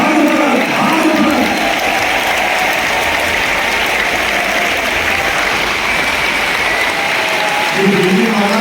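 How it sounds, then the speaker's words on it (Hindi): Loud, dense applause from a large audience at a business sales seminar, with music playing beneath, the clapping steady and sustained throughout. "एक बार जोरदार ताली म्यूजिक के साथ"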